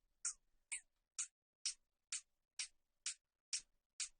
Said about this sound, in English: I just want to give them a little bit of phase here.